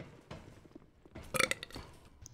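A short, loud burp, rough and gurgling, rising out of quiet game-room background near the middle and trailing off.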